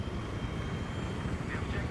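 Helicopter rotor and engine noise in the multiplayer shooter Battlefield 3, a steady dense whirring roar at moderate level throughout, with faint voices underneath.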